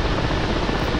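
A Mi-8 Hip helicopter in a 1980s-era combat flight game roars with a loud, steady, dense rotor and turbine wash that fills the whole moment without pause.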